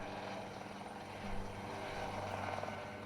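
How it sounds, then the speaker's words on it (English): A helicopter flies low over a huge wilderness area while researchers search for elk, giving a steady, continuous rotor and engine drone that holds at an even level throughout with no talk. "To find elk in this huge area, the researchers have to use a helicopter."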